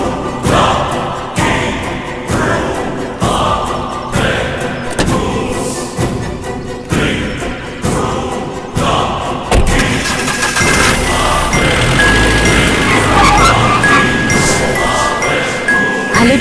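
Car doors thud shut and an engine cranks and starts in a Tamil crime thriller scene, with rhythmic knocks in the first half giving way to a louder, denser engine roar that continues steadily to the end.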